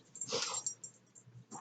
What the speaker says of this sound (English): Dogs are barking in the backyard from the neighbors.